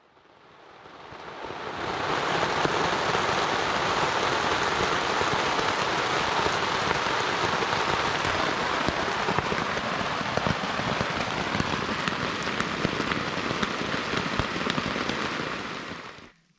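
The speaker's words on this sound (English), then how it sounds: "The rain eased up a little bit" Steady, dense rain pattering on a surface along the Appalachian Trail, continuous and fairly loud for the whole stretch, with no voices.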